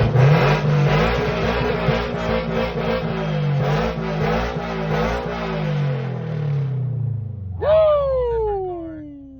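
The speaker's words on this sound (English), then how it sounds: "we just put on the Tomei exhaust" A Subaru BRZ sports car with a Tomei aftermarket exhaust revs hard with a loud, throaty, crackling exhaust roar, then drops off before a second sharp rev rises near the end, close by.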